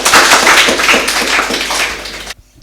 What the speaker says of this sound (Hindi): फिर एक बार तालियों से